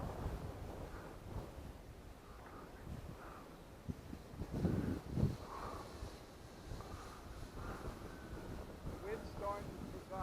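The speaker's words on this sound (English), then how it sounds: "The wind's starting to pick up." Wind gusting across an open model airplane flying field, a low rumbling buffet on the microphone that swells and fades, with faint voices and a distant engine hum in the background.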